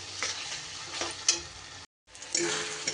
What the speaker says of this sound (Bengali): সব মশলা দিয়ে আমি এখানে 2 মিনিটের মতো কষিয়ে নিয়েছি।